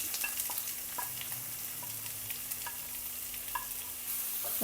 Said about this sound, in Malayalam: ഇഞ്ചിയൊക്കെ നമ്മുടെ കടുവും എല്ലാം നല്ലതുപോലെ മൂത്തിട്ടുണ്ട് ഞാനത്തേക്ക് ഇതിട്ട് കൊടുക്കാം